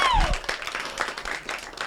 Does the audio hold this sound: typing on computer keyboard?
no